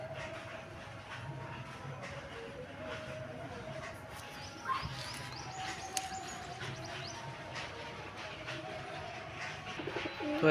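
A pair of pigeons coos softly and faintly amid a steady low rumble of background noise, with occasional small knocks and clicks throughout.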